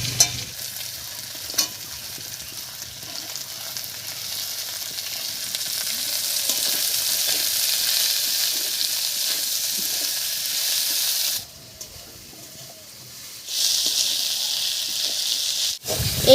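Dried fish with onion and garlic frying and being stirred in a pan for a shutki dish, a steady close sizzle with occasional scraping, briefly dropping quieter midway before the hiss returns.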